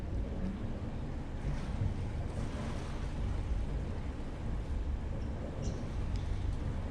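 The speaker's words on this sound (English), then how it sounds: "So water's going to start flowing in now." Steady rush of water pouring through an opened sluice into a boat lock chamber, a constant broadband wash with wind buffeting the microphone and no speech.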